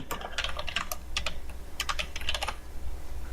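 Rapid bursts of typing on a computer keyboard, close and clear, irregular clusters of keystrokes with brief pauses, no talking.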